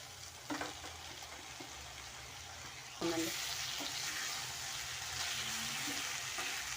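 Okra fries in a pan and is slowly stirred, a soft continuous sizzle that swells after a brief scrape and then carries on steadily at a quiet level, with no talking.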